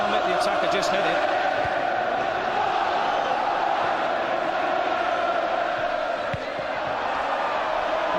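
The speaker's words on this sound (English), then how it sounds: "when it's full like this and the crowd are in the mood as they are at the moment, the noise is deafening" Packed football stadium crowd at a Premiership match, Bolton Wanderers against Arsenal: a dense, roaring wall of chanting and noise, loud and unbroken, with a commentator talking over it.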